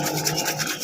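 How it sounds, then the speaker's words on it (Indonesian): Old glue scraped off a motorcycle body panel during a full repaint of a Honda Supra, a close, continuous rough rasping scrape. "kita kerok seperti ini terlebih dahulu agar lemnya itu bisa hilang."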